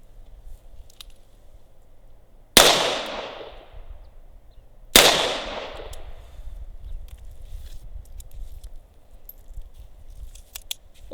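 Two sharp gunshots from a Ruger LCR .22 LR revolver ring out about two and a half seconds apart, each with a short decaying tail, outdoors over quiet background.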